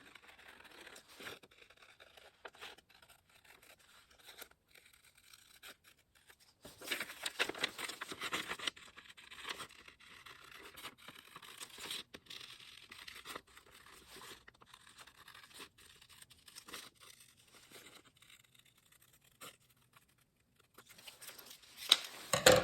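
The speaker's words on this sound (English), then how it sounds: "I want to cut as close to this black line as I can" Scissors cut paper along a traced black line in quiet, intermittent bursts of snipping and rustling scrapes, busier in the middle, with brief pauses between cuts.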